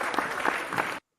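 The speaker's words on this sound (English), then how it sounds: "Any clapping is better than never" A short burst of applause from a small group, dense and steady for about a second before cutting off abruptly.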